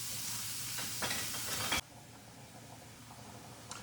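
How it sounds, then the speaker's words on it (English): Ground beef hits a hot cast iron pan with a loud, broadband sizzle and crackle for nearly two seconds, then drops abruptly to a faint, quieter hiss with occasional light pops. "Listen to that sizzle."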